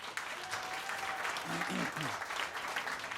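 An audience at the Metropolitan Room cabaret claps in steady, moderate applause after a musical arrangement, with a voice briefly speaking over it in the middle.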